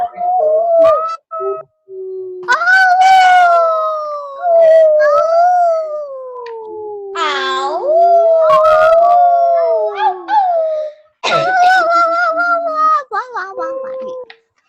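Several voices imitate a wolf, drawing out long wavering howls one after another, with brief gaps and a few yips between them.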